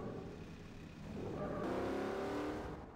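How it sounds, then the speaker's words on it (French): Car engine revving hard in Garry's Mod DarkRP, a steady close-up motor drone that swells and climbs in pitch partway through, loud and continuous with no talk over it. "t'entends le moteur?"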